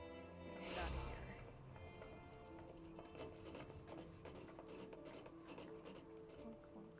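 A mech in the video game Final Fantasy XIV clunks around, giving faint, regular mechanical thuds and rattling steps under a quiet game background.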